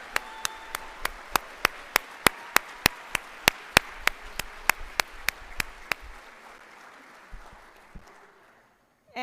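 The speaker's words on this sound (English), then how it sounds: "We got to have another round of applause for all those students of the month." At a school students-of-the-month recognition ceremony, one person claps in a fast, steady rhythm of around twenty sharp claps that then stop, leaving a quiet room.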